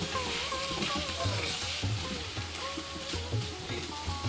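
Spices and broken potato pieces fry in a pan while being stirred, making a constant soft sizzle with regular scraping stir strokes recurring every half second or so, at moderate close range.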